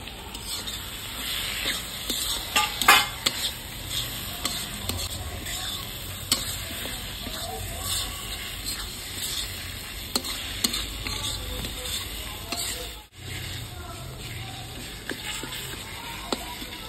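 Tomatoes sizzle and fry in a homemade spice paste for chicken kosha curry, a steady close hiss broken by frequent stirring scrapes and clatter against the pan.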